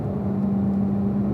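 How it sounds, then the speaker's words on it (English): A race car accelerates out of a corner with a steady mid-pitched engine drone held at a constant tone, fairly close and loud, with no talk. "Accelerate out of the corner, pull the right paddle, go to fifth."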